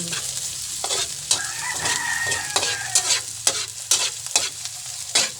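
Garlic and onion frying in a pan, steady close sizzle with frequent rhythmic stirring scrapes and clacks of a utensil against the pan.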